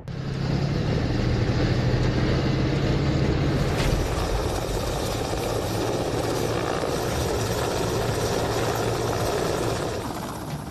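A Russian military helicopter roars loudly and steadily during an army exercise in Belarus, its rotor and engine thrumming continuously up close for the whole stretch, with no speech.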